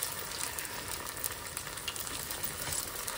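Sabudana appe cook in oil in the hollows of a hot appe pan, giving a constant, soft, close crackling sizzle with no voices.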